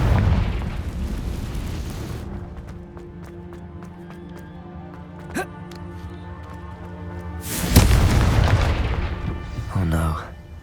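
In the Hogwarts Legacy video game, a Confringo explosion spell goes off, heard as a loud booming burst that fades into sustained game music and ambience. A second rushing burst follows near the end.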